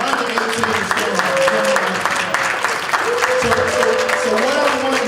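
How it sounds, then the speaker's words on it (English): Applause from an audience at a panel discussion, a dense round of clapping held at steady strength throughout, with a voice and a low sustained hum running under it. "Give them a round of applause"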